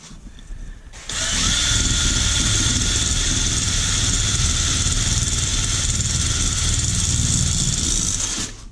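Cylinder honing on a Honda CB125E engine starts with a sudden loud power-tool whine that holds steady and close for several seconds.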